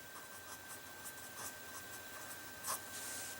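Faint scratchy strokes of a pen writing maths on paper, short irregular scrapes and rubs close by over low room hiss, no voices.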